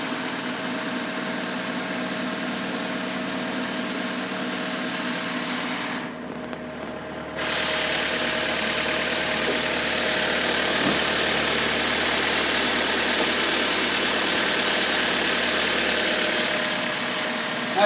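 A 1996 Honda Civic engine idles steadily after a starter replacement, a loud, close, continuous hum with mild vibration and a brief dip in level partway through, with no voices.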